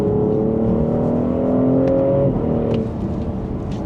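A 2026 BMW X5 in Sport Plus, second gear, pulls hard at full throttle, its engine note climbing steadily and loud from inside the cabin before easing off near the end.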